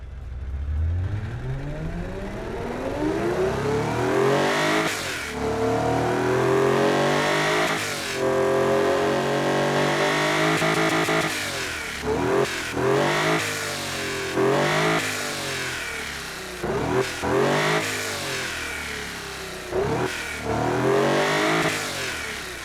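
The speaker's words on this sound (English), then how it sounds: "Let's hear this engine." A car engine with a performance intake system revs repeatedly, climbing and dropping in pitch in a series of sharp bursts, loud and close, with no talking over it.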